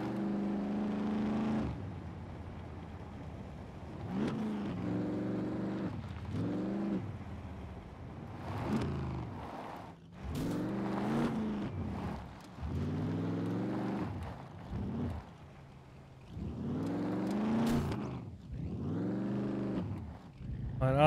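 A vehicle engine in the SCUM video game revving up and easing off in repeated surges, each rising in pitch before dropping, close and fairly loud throughout.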